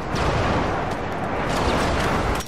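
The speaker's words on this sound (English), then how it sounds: "Friendly airstrike on the way." Airstrike explosions in Call of Duty Modern Warfare 3 on the Seatown map roar as one continuous, loud rumbling blast wash with sharp cracks mixed in, ending abruptly.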